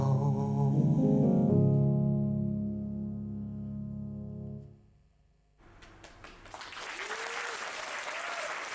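An audience breaks into applause after a Cantonese song performance, a dense clapping wash that swells and lingers while a voice speaks over it, following the fading final sustained notes.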